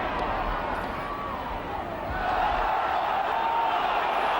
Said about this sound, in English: The crowd going absolutely berserk about that one.